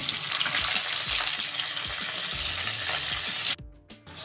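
Chana dal, cumin and chopped green chilli fry in hot oil, giving a steady close crackling sizzle that cuts off sharply near the end.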